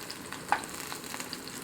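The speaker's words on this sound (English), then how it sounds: "So let the eggplant sizzle away." Eggplant sizzling as it shallow-fries in a pan, a quiet continuous crackle with one sharper tap near the start.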